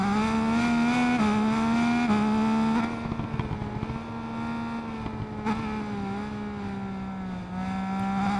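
A Triumph naked motorcycle on a fast test lap, its engine droning loud and steady near at hand with small pitch shifts through gear and throttle changes, easing slightly partway through.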